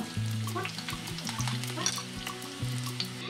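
Onion frying in oil with scrambled eggs crackles in a loud, close sizzle, with stirring scrapes and clinks of a utensil against the pan and no talk over it.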